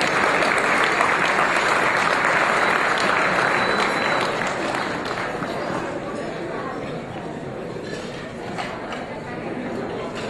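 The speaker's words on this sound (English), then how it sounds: "I ask that we give a round of applause for Carol Brooks." Guests at an awards dinner applaud loudly in a sustained burst of dense clapping, which tapers slightly toward the end with faint chatter underneath.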